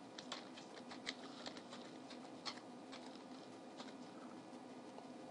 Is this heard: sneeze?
no